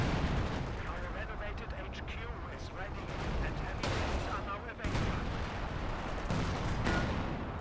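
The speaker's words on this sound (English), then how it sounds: "Artillery piece is still firing." Artillery fire in the real-time strategy game Company of Heroes 2: a dense, continuous barrage of booming shots and gunfire with loud repeated blasts throughout, near and heavy.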